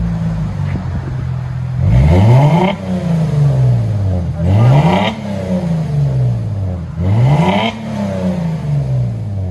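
A 2007 Mercedes C230 Sport V6 with a dual exhaust revs hard three times, each loud, close blip rising sharply and then sagging slowly back toward idle, with steady engine rumble between them.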